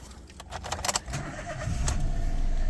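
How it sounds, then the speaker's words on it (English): A 2016 Toyota Aygo 1.0 three-cylinder petrol engine cranks and starts. Light key jangling and clicks come first, then the engine catches and settles into a steady idle. "I will start the car up."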